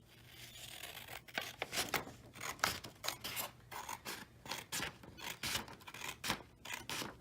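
Scissors cut paper along a dotted line in a series of quick snips with a steady rhythm, quiet and close, with no talking.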